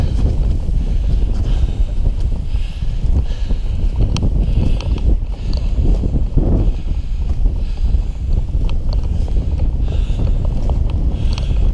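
Strong wind roars steadily over a solid-ice winter mountain hike to Charlies Bunion, a loud, constant broadband rush buffeting the microphone for the whole stretch with no break.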